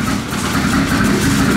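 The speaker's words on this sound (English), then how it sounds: "Listen to this cam." A built turbo Honda Civic engine idles close and loud with a lumpy cam, a rough uneven chop that holds steady throughout without any talking.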